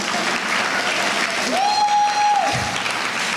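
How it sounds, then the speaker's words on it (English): Audience applause at the Laasya 2023 event, steady dense clapping from a crowd throughout, with a sustained whistle-like tone rising briefly in the middle. "round of applause, please"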